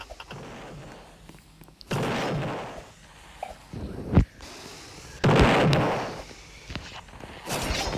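Bombs explode in a Roblox ship battle game, several booming blasts with hissing tails arriving a few seconds apart, interspersed with sharper pops and quieter game noise between them.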